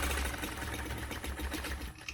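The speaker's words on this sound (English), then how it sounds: "So this first line I'm going to stitch." A sewing machine stitches a straight line along the edge of a quilting ruler, its motor whirring in a steady fast rhythmic hum with the needle clattering throughout, close and continuous with no talking.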